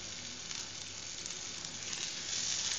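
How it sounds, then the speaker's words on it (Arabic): Butter sizzling in a hot frying pan as it greases the surface before vanilla pancake batter goes in, a continuous close crackling hiss that stays steady and brightens slightly near the end. "الان غادي نلوح فيها شويه طريقه ديال الزبده باش تدهن ليا هاد لا سيرفاس او الوجه ديال المقله"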